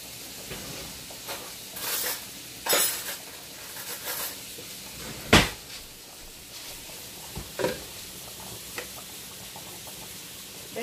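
Pork chops frying in a pan for a smothered pork chop dish, a steady quiet sizzle with occasional louder pops and spatters, close by and with no talking.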